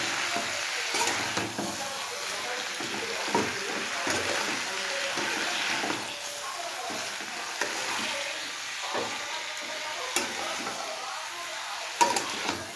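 Mixed winter vegetables with turmeric and water stirred in a pan, soft irregular scrapes and wet shuffling over a gentle steady sizzle, close and continuous with occasional louder knocks.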